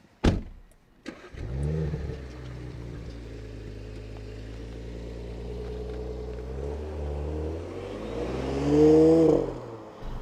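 A 2023 Audi S5 Sportback's engine drones on the road after a brief sharp knock at the start, holding a steady mid-pitched hum before revving louder near the end, with no voices.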